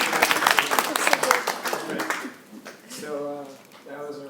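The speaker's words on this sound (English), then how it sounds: "Can we just have a round of applause for the project?" An audience applauds a project presentation, with sharp clapping that starts loud, thins out after a couple of seconds, and gives way to a speaking voice near the end.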